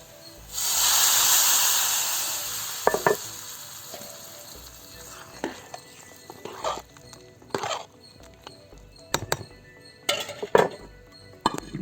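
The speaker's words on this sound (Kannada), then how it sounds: "ಒಗ್ಗರಣೆ ಸಾರಿಗೆ ಹಾಕ್ತಾಯಿದ್ದೀನಿ." Hot tempering of curry leaves and asafoetida poured into radish and lentil sambar, a loud burst of sizzling that fades over a few seconds, followed by scattered clinks and stirring sounds.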